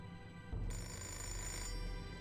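A telephone rings in the video game Fahrenheit, a steady electronic ring that starts abruptly about half a second in and continues loud and close, with no voices over it.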